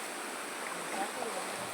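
Stream water flows at a dam running lower than usual, giving a soft, steady rushing hiss heard at moderate distance.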